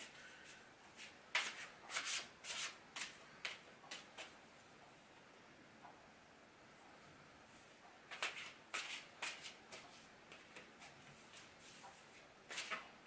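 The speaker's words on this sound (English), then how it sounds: "I'm just shuffling the cards now." Tarot cards are shuffled for a Celtic Cross reading: quiet, soft riffling and rubbing bursts come in short clusters, with pauses between them.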